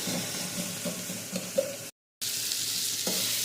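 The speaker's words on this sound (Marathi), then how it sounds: "टोमॅटो पण छान त्याच्यामध्ये स्मॅश होईपर्यंत हलवत राहायचं" Chopped tomatoes stirred and fried in a pan until they mash, a soft steady sizzle with scraping stirs close by, cut by a brief dropout of complete silence midway before the frying resumes.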